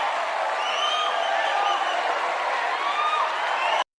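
Steady applause and cheering from a live studio audience at a debate pre-show, a dense wash of clapping with a few whoops on top, sustained and fairly loud for about four seconds before cutting off.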